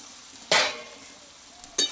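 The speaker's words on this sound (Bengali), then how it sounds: "এইবার এখানে দেব কষে রাখা আলু সোয়াবিন আর পটল আমি একসঙ্গে দিয়ে দেব" Potato, soybean and pointed gourd drop into a hot pan of spiced lentils, giving two sharp bursts of sizzle about a second apart over a quiet background hiss.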